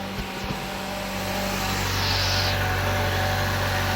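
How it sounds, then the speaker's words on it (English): A car engine, checked for its air-conditioning compressor, turning over and catching, then settling into a steady idle hum with a brief rise in pitch. "by starting the engine"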